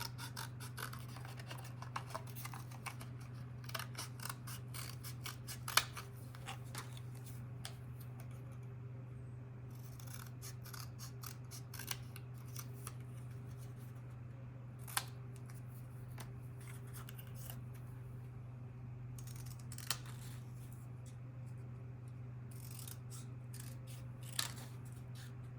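Scissors snipping through paper for a junk journal, close and soft, with irregular crisp cuts and light rustling over a steady low hum, no talking.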